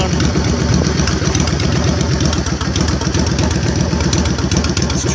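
A 2008 Yamaha V-Star 650 motorcycle engine runs loud and close for the whole stretch, chugging unevenly as it starts running dry, with a steady low rumble and no pauses.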